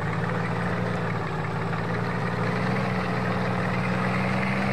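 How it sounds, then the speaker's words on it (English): A Scania NTG truck engine idles in Farming Simulator 22, a steady low rumbling drone at constant level with no revving, heard alone. "100 horsepower engine"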